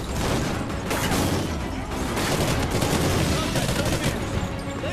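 Gunfire in the Call of Duty: Ghosts video game, with dense bursts of automatic fire and booms crowding the whole stretch, loud and chaotic, while a voice talks over part of it.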